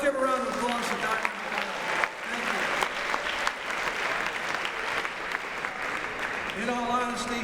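Audience at a student-athlete leadership summit breaks into sustained applause, a dense, even wash of clapping from a sizable crowd lasting several seconds, with a voice heard at the start and end.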